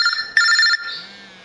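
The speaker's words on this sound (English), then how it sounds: "Now my phone should be ringing fairly soon." A phone rings with an incoming call from a GE Simon XT home alarm system, a bright electronic ring tone with a louder burst in the middle before fading, alone without talk.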